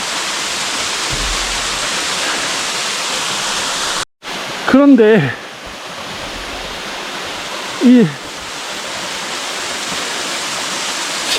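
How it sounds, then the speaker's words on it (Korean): A waterfall in Bogyeongsa valley on Naeyeonsan in Pohang roars as a constant, close, full-bodied rush of falling water, briefly cut out once, with a voice speaking over it twice. "폭포가 11폭포란 말이에요"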